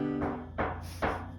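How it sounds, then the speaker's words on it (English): Three sharp raps on a bedroom door in the early morning, evenly spaced about half a second apart, close and fairly loud against a quiet room with a low steady hum underneath. "I'm lying here waiting for Ed to knock on my door"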